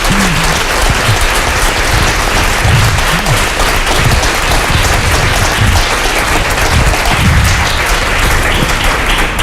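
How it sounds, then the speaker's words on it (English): Loud, dense round of applause from an audience closing a talk, unbroken and steady for the whole stretch, with faint voices occasionally rising beneath it. "A big round of applause"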